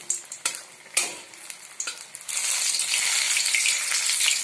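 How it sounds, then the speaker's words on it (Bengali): Masala lemon pabda fish in a frying pan: a few sharp clinks and scrapes of stirring come first, then a loud, steady sizzle of hot oil swells up and carries on close by. "এইভাবে প্রত্যেকটা আমি ভেজে নেব"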